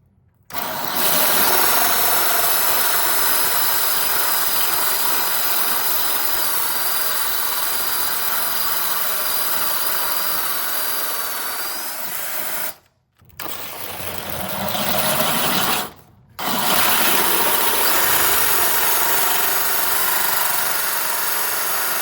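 Power drill boring a hole through a stone countertop with water poured on the cut, a loud continuous grinding whine that runs steadily, breaks off briefly twice, then resumes.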